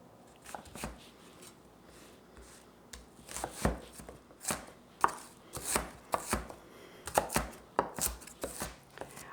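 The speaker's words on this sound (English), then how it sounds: "This is about medium-sized yellow onion, and I'm going to chop that." A medium-sized yellow onion being chopped with a knife on a cutting board, a series of sharp irregular thuds that grow quicker and louder midway, close up and without speech.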